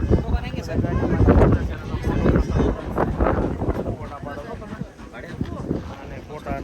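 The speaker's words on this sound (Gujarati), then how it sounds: "એકદમ મસ્ત પવન અને મસ્ત વાતાવરણ છે" Wind gusts across the lookout at Table Point in the Saputara hills, buffeting the microphone as a steady, loud rumble that swells and eases, with voices underneath.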